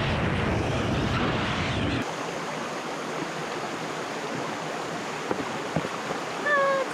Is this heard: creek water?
yes